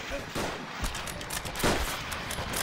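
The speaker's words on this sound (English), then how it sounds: "Wow, everybody's getting shot." Gunfire in Call of Duty: World at War, a rapid, uneven series of sharp shots and bursts spread across the whole stretch, loud and close, with one stronger crack past the middle, over continuous battlefield noise.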